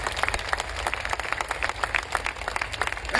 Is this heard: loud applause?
yes